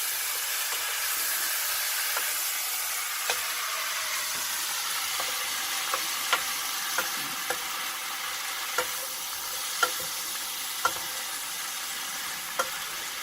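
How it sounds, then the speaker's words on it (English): Vegetables steam and sizzle in a pan with chicken stock used in place of oil, giving a steady, loud hiss with occasional faint clinks and stirring taps scattered throughout, and no voices. "put a little bit of chicken stock in, just in place of the oil, so it'll steam the vegetables in there"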